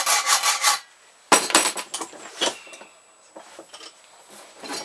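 A small hand saw cuts the end off a metal nail for a homemade pistol crossbow, rasping in quick bursts of strokes with short pauses between, close and fairly loud.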